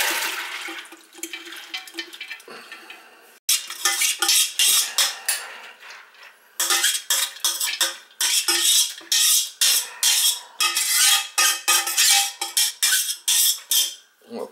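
A long run of rattling, pouring clatter as dried peas tumble into a crock pot, coming in repeated bursts with brief pauses, loud and close.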